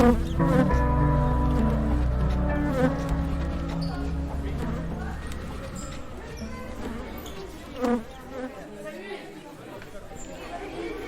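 Bees buzz around a hive in a dense droning hum, with people chattering and talking nearby over the insects.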